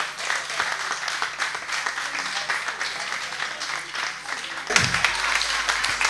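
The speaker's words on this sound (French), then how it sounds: "On l'applaudit très très fort" Applause from an audience greets performer Désiré Jeffrey at a Cameroonian discotheque-style show, steady clapping and crowd noise filling the room, with a louder burst near the end.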